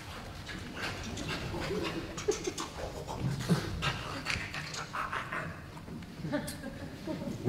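A performer imitates a tango-dancing dog, with breathy panting and occasional whimpering whines in a quick uneven rhythm over several seconds, close and moderately loud against a faint background.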